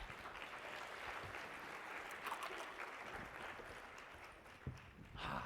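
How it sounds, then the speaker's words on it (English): A conference keynote audience claps steadily for several seconds while the presenter drinks water, a dense, even wash of hand claps with a brief swell near the end. "I need you guys to clap while I drink"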